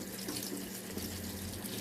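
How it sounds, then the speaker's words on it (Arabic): Running tap water streams steadily over beef lung and tripe being washed in a kitchen sink, a continuous moderate hiss and splash with no pauses and no talking. "عشان الحاجات دي بتبقى عايزة غسيل يعني تحت مية جارية كده كويس جدا"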